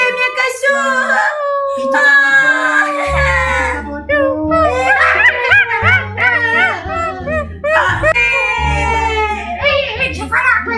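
A pet dog howls and barks in long, wavering yowls mixed with shorter barks, loud and close, with excited voices talking and calling around it.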